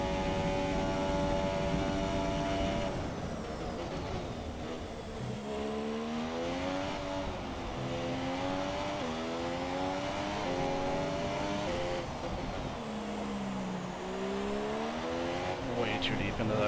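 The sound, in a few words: F1 race car engine in F1 2017 video game, Sochi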